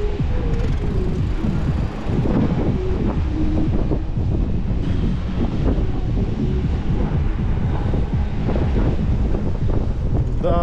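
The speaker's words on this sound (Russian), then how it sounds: "Да, ветрено, однако." Gusty seaside wind batters the microphone steadily outdoors along the Adler–Sirius coast in Sochi, a loud continuous rumble with faint voices beneath.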